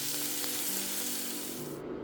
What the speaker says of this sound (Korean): 소금을 약간 넣고 볶습니다